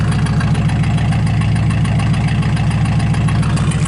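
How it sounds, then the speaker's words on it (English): A cold diesel engine idles right after a cold start, a loud, steady, close rumble with an even rapid knocking pulse throughout and no talking. "Yep, that's a cold engine."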